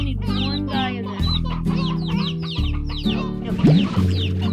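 Hens cluck repeatedly in the Slime Rancher game, quick bursts of close, loud clucking in an uneven rhythm over a low droning music bed.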